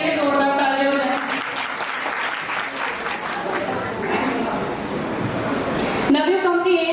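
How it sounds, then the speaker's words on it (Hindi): An audience at a Navyug beautician seminar in Muzaffarnagar breaks into loud, sustained applause, a dense wash of clapping lasting about five seconds between stretches of a speaker's voice. "नवयुग कंपनी के लिए जोरदार तालियां हो जाए"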